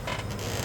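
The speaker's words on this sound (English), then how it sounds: "sorry for the noisy chair" A wooden chair creaks and groans continuously at close range, a low strained rubbing sound with no voices.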